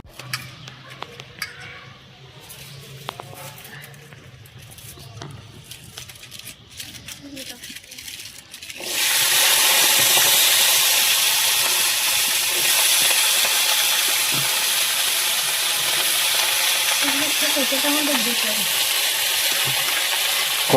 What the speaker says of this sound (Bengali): এবার পেঁয়াজকলিটা ভেজে নেওয়া হবে।